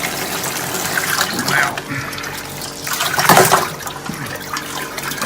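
Water gushes from pulled hoses into a tank on a Thermo-Dive Model 105 unit, a steady splashing flow that swells midway, with someone talking briefly over it.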